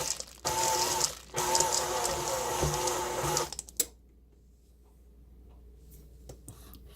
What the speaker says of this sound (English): I'm going to pulse my mixer again just to get the chips blended in.